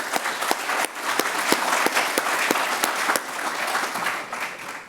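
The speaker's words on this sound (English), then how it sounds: "please join me now in a round of applause for our dedicated advisors" An audience at a spring 2022 business school doctoral graduation ceremony claps for advisors, staff and supporters, a steady, dense round of applause with sharp individual claps standing out up close.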